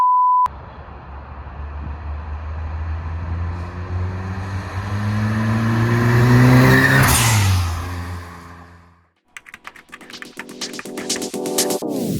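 A Ford Sierra RS Cosworth three-door's engine revs up hard, the pitch climbing through a long acceleration before cutting off, then a burst of rougher engine and mechanical noise follows, loud and close.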